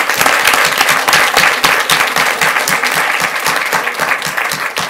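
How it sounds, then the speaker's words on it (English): A school board meeting audience gives a round of applause for the Leadership Academy at Forest Oak Middle School Color Guard, with dense, sustained clapping filling the room. "Let's give them a round of applause, please."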